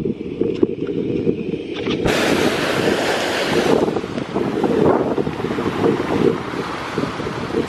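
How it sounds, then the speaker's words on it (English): Ocean surf at Nantasket Beach near Boston rolls and breaks in a loud, continuous wash, heavily buffeted by wind rumbling across the microphone, with the roar swelling partway through. "So we are here at the ocean."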